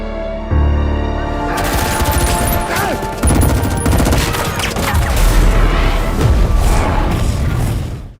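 Gunfire in a battle scene from the film Blood Brothers: Bara Naga: loud, sustained volleys of rapid shots mixed with booming blasts that continue for several seconds before cutting off abruptly.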